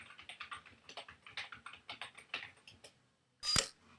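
Computer keyboard keys tapped in a quick even run of about twenty presses, close and soft, followed by a pause and one louder click.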